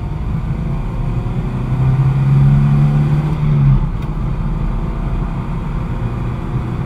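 A Ford Capri Mk1 1300L on the road, its engine droning steadily with a rise in pitch as it accelerates and then settles, loud and close from inside the car.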